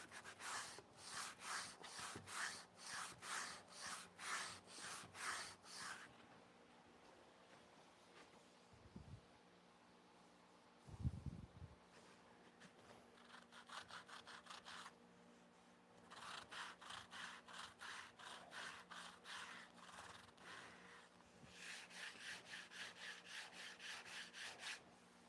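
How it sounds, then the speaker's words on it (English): Pallet wood is sanded by hand in long back-and-forth rubbing strokes, close but soft, coming in several runs separated by pauses, with a couple of brief low knocks between them. "Sanding all the way along, so what I don't want to do is have a dip in the middle."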